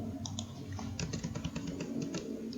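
Computer keyboard keys are pressed in a quick flurry of light clicks and taps, close and fairly quiet over a low background hum.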